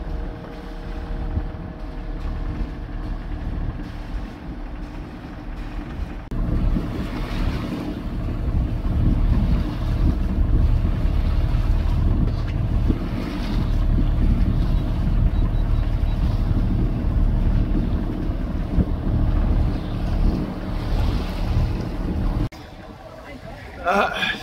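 A boat motor drones steadily on open water between Summerside and Charlottetown, a continuous low rumble mixed with wind and water noise that stops briefly near the end.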